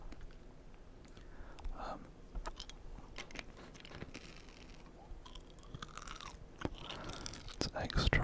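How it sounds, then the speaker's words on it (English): Close, intimate chewing of Wrigley's Extra spearmint sugar-free gum, with wet smacking, clicking and crunchy mouth sounds repeating steadily under soft whispered talk in a quiet late-night setting. "we have some chewing gum, of course"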